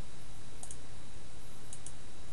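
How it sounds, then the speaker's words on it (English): Sparse computer mouse clicks, a few soft isolated taps over a steady hiss, made while working on a layer mask in Photoshop. "I'm going to click on this layer mask icon to add a layer mask"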